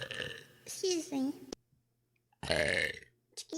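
A VTuber lets out two burps, a short one and then a longer one, each close and loud with clear breaks in between, and a brief vocal sound cuts in at the end.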